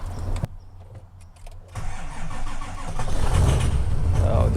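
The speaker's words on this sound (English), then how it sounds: "I'm going to start the car and I'm going to pump it." A Ford F250 Super Duty pickup cranks briefly, pauses, then fires and settles into a loud, close rumbling idle that swells near the end.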